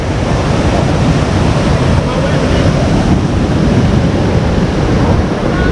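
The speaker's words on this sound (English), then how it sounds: "This is a major stream crossing." Lone Pine Creek, a mountain stream at a major crossing on the Mt Whitney trail, rushes loudly and continuously close by, a dense unbroken roar.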